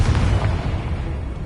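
A Confringo blasting spell explodes in the video game Hogwarts Legacy. It makes a dense, continuous low rumble of booming blasts that stays loud for the whole moment, with no voices.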